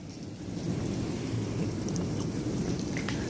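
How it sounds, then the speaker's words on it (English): Rain falls steadily during a hailstorm while low thunder rolls underneath, a continuous rumbling wash that swells after a quieter opening, with a few scattered sharper taps on top. "listen to the thunder"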